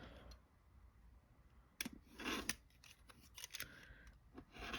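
Quick bursts of a rotary cutter slicing through quilt fabric ends while trimming a quilt block, heard close and fairly quiet as a few short crisp cuts with pauses between them.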